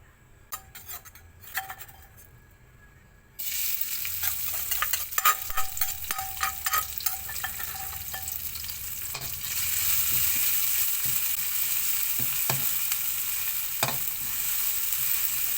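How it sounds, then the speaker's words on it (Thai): Garlic fries in hot oil in a pan, a loud steady sizzle that jumps up suddenly a few seconds in and keeps crackling, with occasional clinks of a utensil against the pan. "พอได้เจียวกระเทียมครับ"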